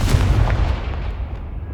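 Confringo spell explosion in the Hogwarts Legacy video game: a deep, booming blast with a sharp onset that rumbles and slowly fades over a couple of seconds, loud and alone.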